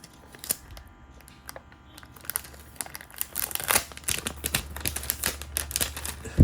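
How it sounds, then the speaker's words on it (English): Packaging of an Asus Ally handheld console is unwrapped up close, with rapid crinkling, tearing and snapping rustles that grow busier and louder toward the end. "Let's unwrap this one."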